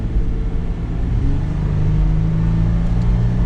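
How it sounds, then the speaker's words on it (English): A 2021 Toyota 4Runner Limited Nightshade accelerates from inside the cabin, its engine note rising in a low, steady hum and drone that grows slightly stronger as throttle is applied. "we'll give it a little bit of gas and see how this performs"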